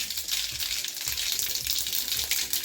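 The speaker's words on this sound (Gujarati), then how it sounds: "આપણે આમાં રાઈ અને લીમડાના પાનનો વઘાર કરવાનો છે" Mustard seeds and curry leaves sizzle in hot oil for khandvi tempering, a dense, steady crackling hiss with small pops throughout, close and fairly loud, with no voices.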